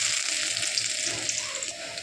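Chopped garlic and ginger sizzling in about four tablespoons of hot oil in a pan while making prawn chilli, a loud, continuous crackling fry close up with no talking.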